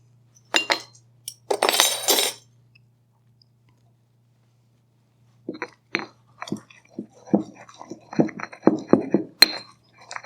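Pesto is mixed with oil in a mortar and pestle, giving scattered close scraping and clinking strokes, first in two short bursts, then a quiet pause, then a denser run of taps and grinds.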